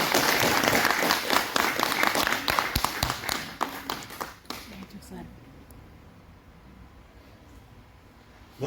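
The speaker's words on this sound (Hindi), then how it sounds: "अरे जोरदार ताली हो गया।" Audience applause at a theatre group's mono-act and musical competition, loud dense clapping for the first four seconds that thins out and fades into a quiet room with a murmur of voices.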